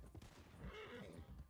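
In Red Dead Redemption 2, a horse gives a short whinny at moderate volume, a brief rising and falling neigh lasting about a second amid low game background noise.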